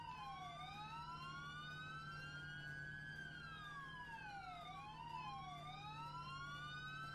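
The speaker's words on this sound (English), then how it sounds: "I'm gonna turn my siren on." A police car siren in the video game ArmA 3 wails continuously, sweeping up and down in long smooth cycles over a steady low engine hum, with no voices.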